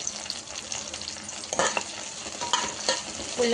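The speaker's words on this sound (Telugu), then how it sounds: "పచ్చిమిర్చి వేసుకొని ఫ్రై చేసుకోవాలండి." Green chilies fry and sizzle in a pan for a green chili onion chutney, with a steady bright crackle and a few louder stirring scrapes, close and with no talking.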